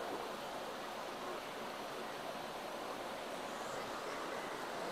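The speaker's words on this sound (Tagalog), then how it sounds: "yung tubig na galing dyan sa loob ng kuweba" Water pours steadily out from inside a cave at a resort, a close, constant broadband rush like a stream or small waterfall that continues unbroken with no voices.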